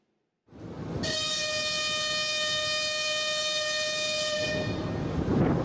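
A new Ukrzaliznytsia passenger train on the Dnipro–Kamianske route sounds one long, steady, loud horn-like tone for several seconds over a broad rumble of rail noise, with no talking.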